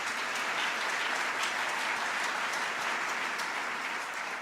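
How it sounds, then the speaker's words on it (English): An audience at a State of the City speech in Buffalo gives a sustained round of applause, dense and even from start to finish with no talking over it. "Let's give him another round of applause."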